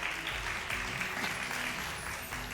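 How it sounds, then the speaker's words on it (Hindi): Quiet applause from a TV quiz show studio audience, a soft, steady patter of clapping heard from a little distance. "बहुत सारी तालियां दोनों लोगों के लिए।"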